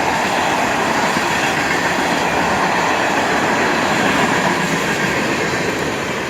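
A long string of tank cars on an FEC freight train rumbles past at close range, a constant heavy roar of steel wheels on rail with rhythmic clacking and faint squeal, easing slightly at the end.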